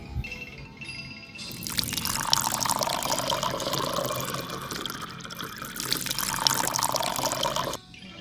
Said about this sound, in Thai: ทำการ ล้าง น้ำมะพร้าว กันเลยเลยนะครับ